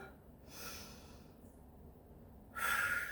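A deep exhale comes at the end of a home full-body workout, with faint airy breaths heard early and a stronger, close breath out in the final half-second.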